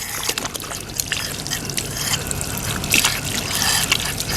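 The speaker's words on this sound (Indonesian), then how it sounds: "kita cuci tangan di bawah air mengalir" Running tap water splashes steadily over hands being washed at a clinic sink, a continuous close trickle and slosh with no pauses.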